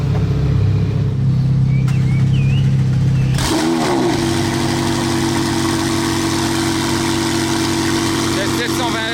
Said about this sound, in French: La 720S, elle est stage 2 avec une ligne. C'est n'importe quoi le bruit, je peux même pas parler derrière.